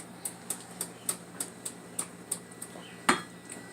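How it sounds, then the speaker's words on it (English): A spoon stirring cocoa powder into mug cake batter, clinking against the mug in a steady rhythm of about three light taps per second, close and quiet, ending with one louder knock. "Stir it together."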